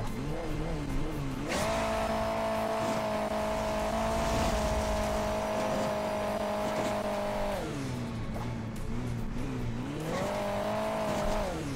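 Motorcycle engine in the Hill Climb Racing 2 mobile game, a steady droning rev that rises and holds, drops briefly, then climbs again, loud and continuous with no talk over it.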